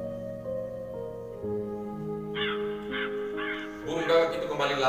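A crow gives a few hoarse, raspy caws, moderately close, the calls standing out over a quiet background and a steady low tone as someone speaks.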